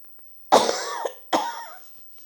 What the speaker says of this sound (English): I'm coughing all the time